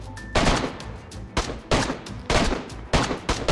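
Gunfire cracking in from a distant village during a snowy DayZ winter firefight near Pulkovo, several loud rapid shots in quick bursts with short gaps between them.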